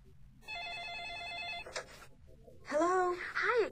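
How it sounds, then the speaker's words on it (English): A telephone rings with a warbling electronic trill, a brief burst followed by a second ring-like tone, fairly close and clear in a quiet room. "Suddenly, the phone rang."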